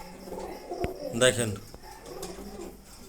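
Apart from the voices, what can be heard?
pigeons cooing in cages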